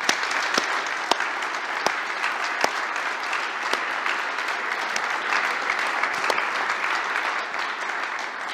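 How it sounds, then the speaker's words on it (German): Steady applause from an audience at a political event with Peter Altmaier, a dense clatter of many hands clapping continuously with a few sharper claps standing out, no one speaking. "aber zuerst mal jetzt ein großer Applaus."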